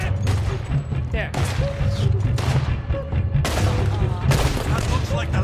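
Gunfire in Red Dead Redemption 2, repeated loud shots and bursts in quick volleys, close and punchy, mixed with game voices and player talk over the top.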